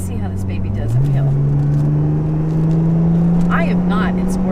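A Lotus Evora S, not in sport mode, accelerates up a steep grade, its engine note climbing and holding steady as the car pulls hard; a person speaks over the sustained engine sound.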